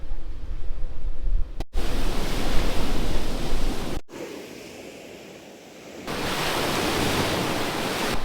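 Waves break on a natural beach at Rincón del Mar, Colombia, as a loud, continuous rush of surf with wind buffeting the microphone. The roar dips briefly and then swells again, with no voices.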